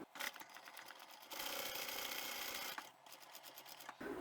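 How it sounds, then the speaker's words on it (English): Sewing machine stitching the lining of a large trapezoid-shaped utility bag, a close, busy whirring run with short bursts and a brief pause partway through. "I'll sew until I get close to the center, and then I'll back stitch"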